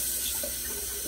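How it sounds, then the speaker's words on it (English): Water runs steadily with a soft, continuous splashing hiss as it is poured into a pot holding spaghetti sauce, close by and without voices. "I'm gonna pour a little bit of water in here"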